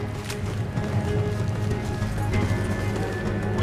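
Horse hooves clip-clop in a steady rhythmic trot through a frontier town in Red Dead Redemption 2, moderately close over a low ambient hum.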